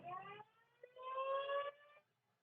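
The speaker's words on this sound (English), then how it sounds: "it's currently flashing in Jackson's room over there with a siren." An alarm siren sounds indoors in a room, a clear electronic wailing tone in two short bursts with a pause between, fairly quiet and alone.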